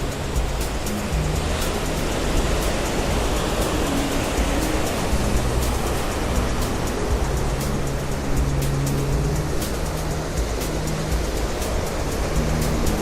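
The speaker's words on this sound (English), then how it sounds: "it's high tide, the water's crashing up against those rocks" Waves at high tide crash steadily against rocks along an unspoiled stretch of California coastline, a dense continuous roar of surf with no voices.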